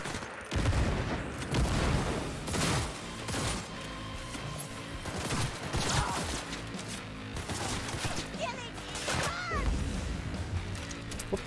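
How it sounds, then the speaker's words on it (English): Grenades and gunfire in the Cyberpunk 2077 video game, with rapid bursts, crashes and booms packed densely together throughout, loud and continuous. "just throwing grenades in."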